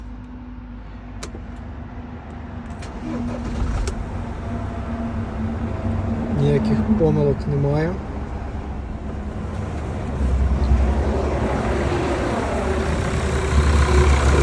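A Mercedes Sprinter W906 van's 2.7 OM647 diesel engine cranks and settles into a steady, rumbling idle, with a brief voice speaking over the running motor.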